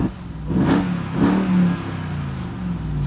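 2021 RAM TRX Launch Edition truck engine revving in two quick blips over a deep idle, close and loud, with the rumble easing back between throttle pulls.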